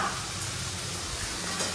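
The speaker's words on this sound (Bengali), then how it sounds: "আলু ঢ্যাঁড়স ভাজা" Potato and okra pieces fry in oil in a home kitchen pan, giving off a steady, even sizzle that stays close and constant throughout with no talk.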